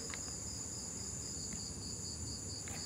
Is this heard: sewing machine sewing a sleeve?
no